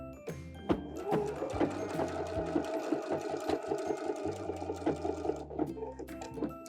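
A sewing machine runs close by in a steady mechanical whir with rapid rhythmic clatter, back-stitching a skirt waistband near a zipper, stopping briefly near the end.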